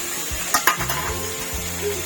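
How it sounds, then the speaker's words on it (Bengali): Tomatoes tipped into a hot pan already holding chilli, turmeric, cumin and Kashmiri chilli powder for a chicken curry, a sudden clatter followed by a close, steady sizzle and a few utensil knocks. "টমেটোটা দিয়ে দিচ্ছি"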